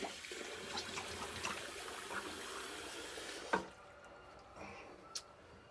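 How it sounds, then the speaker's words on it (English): Water runs steadily from a tap while a man rinses after shaving, a continuous wash that cuts off partway through, leaving a quiet room with a couple of faint knocks. "All right, let me rinse down."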